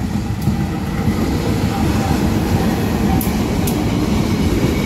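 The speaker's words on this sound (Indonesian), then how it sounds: "Panjang sekali kereta api." Steady, loud rumble of a long coal freight train rolling past up close, continuous and unbroken, with faint voices now and then.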